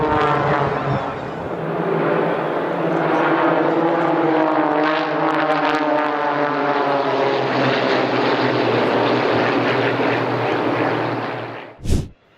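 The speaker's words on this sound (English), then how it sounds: "3 pilots flew under the chain bridge, connecting Buda and Pest in the Hungarian capital." Propeller planes flying low under the Chain Bridge over the river in Budapest, a loud, sustained droning engine roar with shifting pitch as they pass close, ending in a sudden sharp burst.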